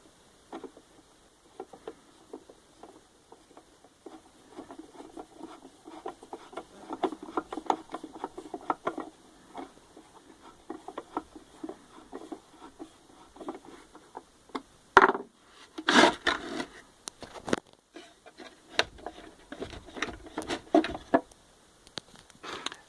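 A paddle is fitted into a drilled wooden booby trap with small scattered taps, creaks and knocks of wood on wood, quiet at first and then a few louder clattering knocks near the end, with no voice.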